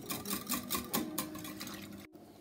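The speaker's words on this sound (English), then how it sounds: "And I'm just going to whisk that in." Cheese being whisked into a sauce for lasagne makes quick, rhythmic scraping and swishing strokes in a pan, close and fairly quiet, stopping briefly near the end.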